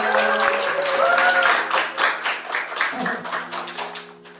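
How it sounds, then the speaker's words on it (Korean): Seminar audience in a room claps for a coach, with warm applause fading over about four seconds while background music with sustained tones plays underneath. "우리 최정수 코치님께 뜨거운 박수 한번 부탁드립니다"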